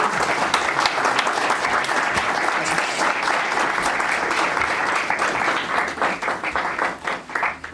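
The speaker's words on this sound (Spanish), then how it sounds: "Recibamos al doctor Morales con un gran aplauso" At a Mexican university campus, FES Cuautitlán of UNAM, an audience gives a big welcoming round of applause for a doctor, many hands clapping steadily and fully before thinning toward the end.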